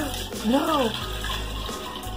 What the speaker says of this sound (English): Oh, that was a bad pour.